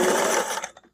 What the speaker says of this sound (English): I'm just going to sew over my starting stitches anyway